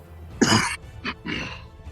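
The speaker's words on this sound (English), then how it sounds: "try to talk over your coughing" Three harsh coughs close up, one long burst followed by two shorter ones, with no talking.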